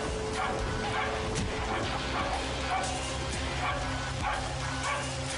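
A dog barking, yipping and whimpering in a dramatized true-crime reenactment set around a nineteenth-century street, with repeated distressed yelps over a noisy, dense background.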